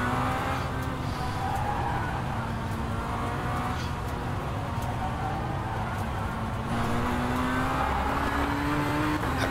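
Race car in the rFactor 2 racing game, engine roaring loudly and continuously while the tyres squeal as the car slides through a corner.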